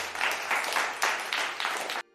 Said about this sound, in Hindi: गांव वालों ने ताली बजाकर उनका स्वागत किया।